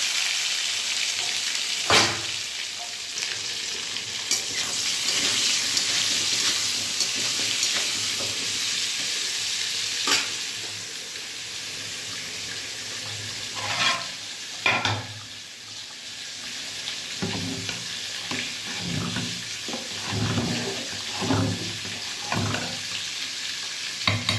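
Potatoes sizzle in hot oil in a pan while making khichuri, a continuous close crackle broken by repeated clicks and scrapes of a spatula stirring, with louder, busier frying toward the end.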